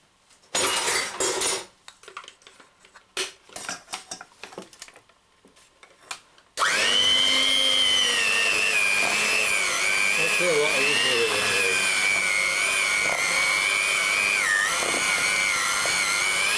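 An electric mixer kneads bread dough with a loud, steady motor whine that wavers in pitch and runs without a break for about ten seconds, after several seconds of clattering bowl and handling noises.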